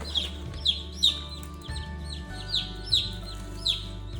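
Chickens cluck repeatedly as they eat food off the ground, short sharp clucks recurring roughly every half second, close and clear over a steady low hum.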